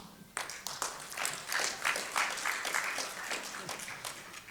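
An audience at a conference opening ceremony claps in a burst of applause lasting several seconds, heard at a moderate distance and fairly faint.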